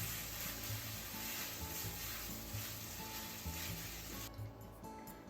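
Sesame seeds and garlic wakame stirred in a pan off the heat, a soft steady sizzle with scraping strokes that continues evenly, then quiets slightly at the end.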